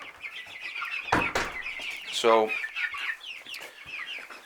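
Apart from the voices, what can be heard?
Rhode Island Red chickens clucking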